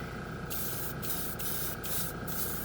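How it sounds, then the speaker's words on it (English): Airbrush spraying acrylic paint from the Green Stuff World steel and silver set, driven by a loud air compressor that drones steadily throughout, with the hiss cutting in and out in several short bursts. "Oh, I didn't hook up my super silent compressor here yet."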